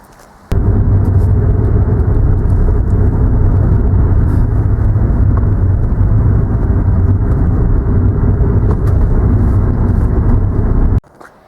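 A car being driven, heard as a steady, loud, low engine and road rumble inside the vehicle that starts abruptly, holds evenly for about ten seconds and then cuts off.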